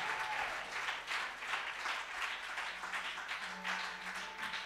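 A church congregation applauds during an Easter Sunday service, steady clapping from many hands filling the room without pause, moderately loud and close, with a faint sustained tone beneath.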